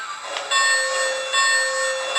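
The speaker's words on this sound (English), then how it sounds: "And it's got a traditional bell" A traditional bell on a toy Christmas train rings steadily with a bright, sustained metallic tone, swelling twice in close, continuous clanging, heard with no one talking.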